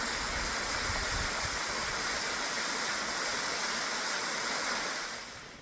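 Boksungatang waterfall pours into a naturally formed cliff pool with a steady, loud roar that fades slightly at the very end.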